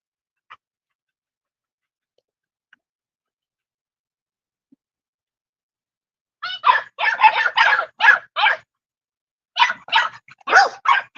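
A young dog chained in a yard gives bursts of high yips and whimpering barks after a long quiet stretch, close and loud, in two clusters.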